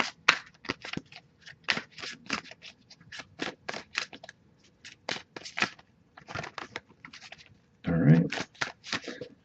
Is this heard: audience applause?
no